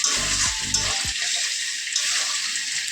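Water pours and splashes into a cooking pot on a gas stove for about a second. The low gush is followed by steady sizzling and hissing that carries on at a moderate, close level.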